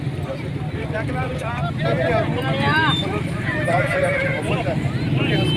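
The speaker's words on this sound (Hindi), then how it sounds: "पिछला कई सालों से घोड़ों में जुलूस निकाला जाता है" Horses whinny repeatedly amid a noisy street procession for the Eid Milad rally in Jhelum, with hoofbeats and crowd chatter blending underneath; people talk throughout.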